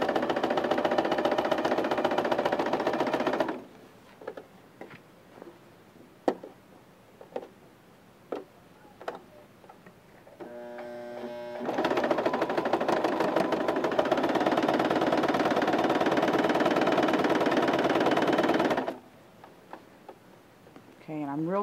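A domestic sewing machine stitches down the straps of a shirred summer dress, whirring in two long steady runs separated by a pause filled with clicks and light handling taps.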